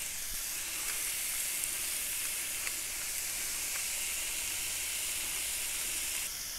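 Minced meat seasoned with salt and pepper browning in a pan for a one-pot chili cheese dish, a continuous bright sizzle and crackle close by with occasional sharper pops, steady throughout.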